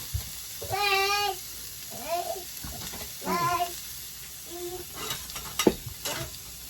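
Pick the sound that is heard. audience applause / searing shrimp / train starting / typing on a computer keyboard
searing shrimp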